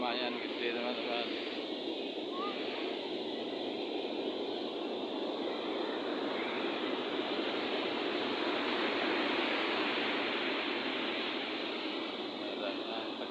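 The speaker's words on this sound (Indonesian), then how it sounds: "Ombaknya lumayan gede teman-teman." Fairly big ocean waves at a beach make a continuous broad surf roar, steady and fairly distant, with no talking.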